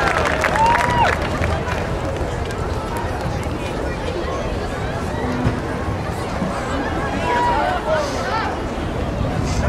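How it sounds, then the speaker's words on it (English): An audience at a school band family night program cheers and applauds in a steady, dense wash of clapping and crowd noise that lasts throughout. "Give them a big cheer, please."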